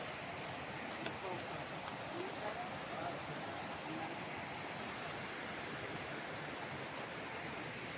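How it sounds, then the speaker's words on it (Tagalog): Steady, soft rushing of a flowing river in Majayjay, Laguna, an even broadband wash with no pauses, heard from a little distance. "Sarap pakinggan ng lagaslas ng tubig"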